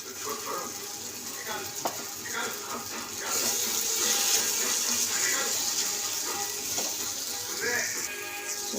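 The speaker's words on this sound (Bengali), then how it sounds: "এবার আমি জলটা দেব।" About a cup of water poured into a pan of paneer curry after the masala is cooked down, a splashing hiss that grows louder midway over faint kitchen clatter, close by.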